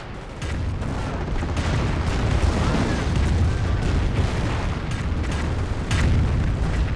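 A sticky bomb goes off amid a Company of Heroes battle, with a dense sustained rumble of explosions and gunfire that stays loud and continuous throughout, with no distinct single blast standing out.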